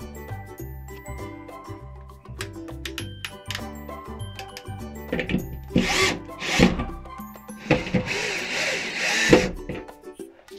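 A power drill drives screws into wood to mount shelves, with several short whirring bursts that grow louder and longer toward the end, plus light metallic jingles and rubbing sounds between them, all up close.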